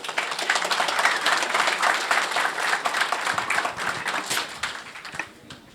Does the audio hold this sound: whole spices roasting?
no